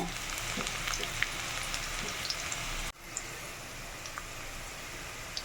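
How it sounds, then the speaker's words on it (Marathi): Crushed garlic and cumin frying in hot oil, a steady close crackling sizzle with scattered pops, briefly dipping midway then continuing evenly. "लसूण जिरं फ्राय झालेलं आहे."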